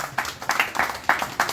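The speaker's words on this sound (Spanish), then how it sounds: "Fuerte aplauso para el Señor" A church congregation claps, a brisk run of close, irregular hand claps over about a second and a half.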